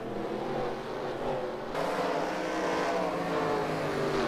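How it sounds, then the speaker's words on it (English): Race cars on a dirt track during the Chili Bowl, engines droning loudly and continuously as the pack runs laps, with a sudden shift in pitch and roar midway as the cars pass. "It's a 2-car race"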